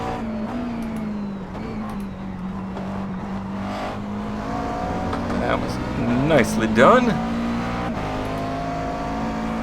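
A race car engine in the iRacing simulator drones steadily, its pitch rising and falling as it revs through the gears, loudest midway, with a voice talking over it.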